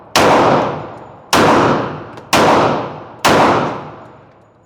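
Four loud shots from a Glock 40 Gen4 10mm pistol fitted with an optic, spaced about a second apart, each a sharp crack with a long ringing decay, fired outdoors with no talking.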